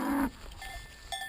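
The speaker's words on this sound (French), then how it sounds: "En plus il y a des vaches, c'est trop cool." Cows out in the Spanish mountains: a short low moo at the start, followed by faint cowbell tinkles and soft outdoor rustle, fairly close.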